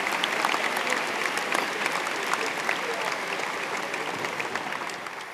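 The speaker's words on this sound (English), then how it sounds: "Please give yourself a round of applause." Crowd applause at a school closing ceremony, sustained and dense with crisp individual claps, holding strong for several seconds before easing slightly toward the end, with faint voices underneath.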